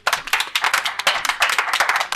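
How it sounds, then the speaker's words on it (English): Office colleagues clapping for a coworker in a small workplace gathering, a handful of close, brisk hand claps overlapping in a quick, uneven rhythm for about two seconds. "A round of applause for Danny."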